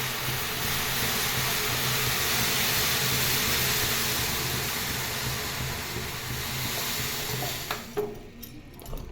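A pongal pot boils over on a new gas cylinder stove with a steady, loud hiss of steam and bubbling froth that holds for most of the stretch, then thins out near the end with a few faint clicks.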